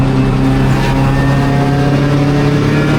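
Race cars competing in the Gridlife GT class, engines droning steadily at close range with a constant hum and no clear pass-by or lift.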